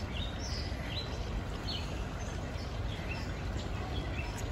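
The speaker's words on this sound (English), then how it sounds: "Say, I can hear all the birds." Faint high bird chirps scattered over a steady outdoor rumble of wind or water, distant and intermittent.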